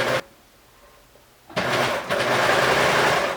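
A serger overlock machine stitches and trims the edge of knit fabric for a women's V-neck T-shirt, running in a brief close burst, pausing, then whirring steadily and loudly.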